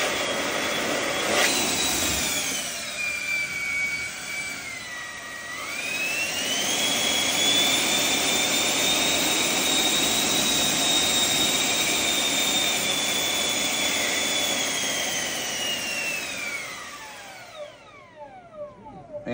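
A model jet plane's turbine engine runs at about 40% throttle, spooling up with a rising whine, then holding a loud, steady, high-pitched roar up close before winding down near the end.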